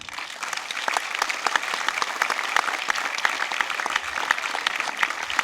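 Audience at a comedy festival's stand-up contest applauds a comedian, a steady, dense wash of clapping held at even loudness throughout.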